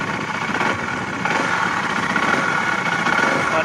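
A KTM RC390 motorcycle engine running and revving up, a steady mid-pitched buzz that swells slightly partway through, fairly close with no talk.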